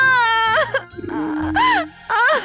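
A person cries in a short wailing, sobbing burst with rising and falling pitch and brief breaks between sobs, loud and close.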